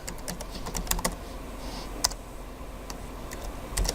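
Username and password typed on a computer keyboard during a git push, heard as scattered, uneven keystroke clicks with short pauses between bursts, close and fairly quiet, with no talking.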